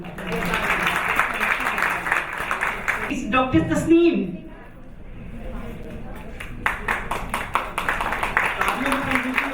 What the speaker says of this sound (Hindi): इसके लिए बहुत तालियां